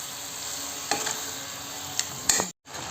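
Village chicken stir-fried in masala sizzles steadily in a pan, a continuous close frying hiss broken by a few brief spoon scrapes and clinks as the pieces are turned.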